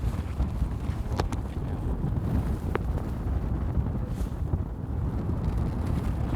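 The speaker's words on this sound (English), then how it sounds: "Ooh, it's windy." Steady, strong, cold wind in Prague buffeting the microphone throughout, a constant low rumble with a couple of faint clicks and no voices.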